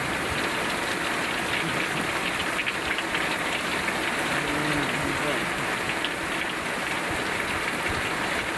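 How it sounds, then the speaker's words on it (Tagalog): Steady, heavy rain pours continuously throughout during a storm with strong wind and thunder, a dense wash of noise with a faint low rumble underneath. "Yan ang ulan."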